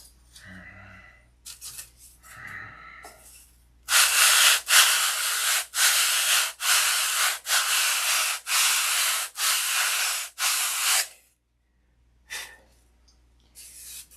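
Rhythmic sanding with sandpaper, about eight firm back-and-forth strokes in a steady pattern, close up, with a few soft scrapes before and after.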